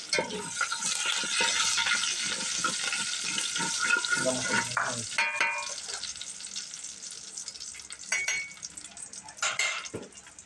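Curry leaves fry in hot oil in a pan, spitting and crackling loudly and continuously at close range, then the sizzle thins out as stirring and metal utensil clinks take over.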